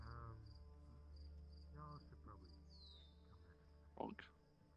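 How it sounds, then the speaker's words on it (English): Frogs croak outside an open window, a steady high-pitched trilling chorus that holds faintly in the background while people talk over it. "Outside my window, hear frogs because I have it open."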